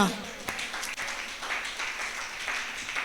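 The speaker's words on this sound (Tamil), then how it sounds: "கைதட்டுமா?" A church congregation at a Tamil Sunday service claps briefly and loosely, a few scattered sharp hand claps over a lingering preacher's voice and room echo.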